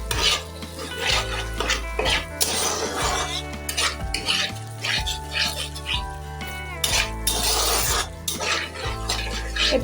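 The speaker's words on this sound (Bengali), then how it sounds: "এটা ঘন ঘন নাড়াচাড়া করতে হবে, নয়তো নিচে লেগে যেতে পারে।" Paneer butter masala stirred in a pan, with rhythmic spoon scrapes and clinks against the metal repeating steadily over a soft sizzle and a low background hum.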